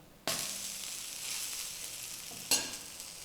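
An uttapam fries on a hot griddle, a steady bright sizzle that jumps suddenly at the start and again near the end as the batter is disturbed or flipped, with no talk.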